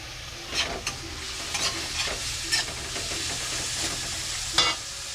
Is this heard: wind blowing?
no